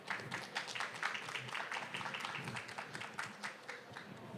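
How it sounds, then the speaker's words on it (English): An audience at a biotech presentation event gives a round of applause, a dense, fairly faint spread of many overlapping claps sustained throughout. "Another big round of applause."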